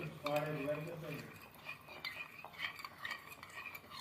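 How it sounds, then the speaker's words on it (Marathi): Warm milk is whisked into curd in a bowl, giving soft scraping and light clinking of the whisk against the bowl, loudest at the start and then quieter and uneven. "कोमट दूध थोडं थोडंच ओतून घ्यायचं तरी असं नंतर आणि फेटून घेते मस्तपैकी"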